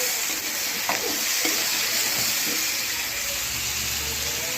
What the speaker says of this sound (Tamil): ஒரு 4 தக்காளி போட்டு அதையும் நல்லா வதக்கிக்கலாம்